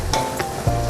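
Salted vegetable pulao being stirred in a hot pan, a short spoon scrape over a soft sizzle, close and brief.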